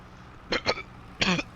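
A man clears his throat twice outdoors beside farm work, short gruff rasps, then a longer rougher one, close to the microphone with no talking.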